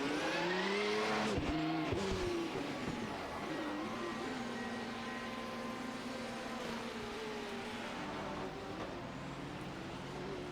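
A race car in the ABN International Sports Car Championship at Belgium, engine droning steadily with harmonic whine and shifting pitch as it travels down pit lane, loud and continuous with no talk.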